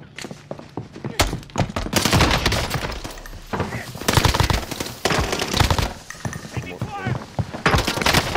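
Rapid automatic gunfire in the Warzone 2 video game, loud close bursts and sustained volleys with short gaps, while players talk and shout over the shooting.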